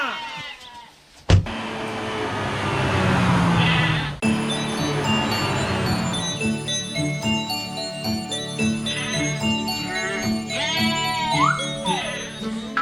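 A young goat in a Haryanvi children's picnic rhyme gives a couple of short wavering bleats near the end, over sustained musical tones and other cartoon-like sounds.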